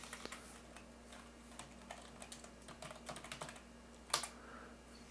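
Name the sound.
computer keyboard typing login credentials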